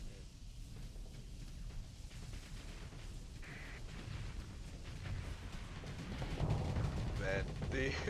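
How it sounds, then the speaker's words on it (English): Missiles and guns fire in rapid bursts during a space combat video game battle, a dense crackle of launches and impacts that builds toward the end. "the amount of missiles coming off that venture is just incredible."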